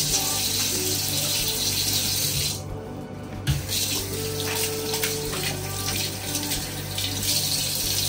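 Water running steadily from a tap, a continuous hiss with a brief dip midway, close and fairly loud.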